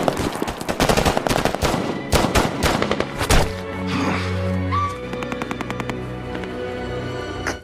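Automatic gunfire erupts in a Special Forces war film firefight with Taliban fighters, dense rapid bursts and heavy cracks at the start, then a lower rumbling blast and continued rattling shots toward the end, loud and close.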